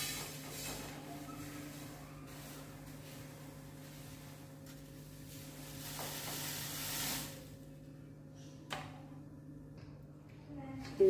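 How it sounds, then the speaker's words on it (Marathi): Sesame seeds are dry-roasted and stirred in a pan over a gas flame, giving a soft, steady rustling hiss over a low hum. It eases off near the end, with a couple of sharp clicks. "आता घालणार आहे मी त्यामध्ये तीळ,"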